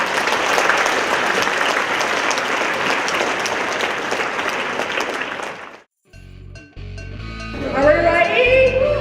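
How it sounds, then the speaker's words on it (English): A large audience at an education seminar applauds consultants on stage, a loud, dense burst of clapping that runs for about six seconds and then stops abruptly, followed by a voice speaking over a quiet room. "let's all give them a huge round of applause first of all."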